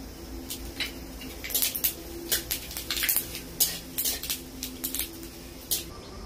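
Whole spices tossed into hot mustard-style oil with dried red chillies for tempering, giving a run of sharp clinks and crackling spatters over a low steady hum, fairly close and moderately loud, with no talk.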